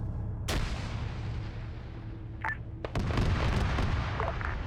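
A vehicle cannon shot slamming into a vehicle in the Insurgency video game: a sharp, loud blast followed a couple of seconds later by a heavy rumbling impact burst over steady low engine drone.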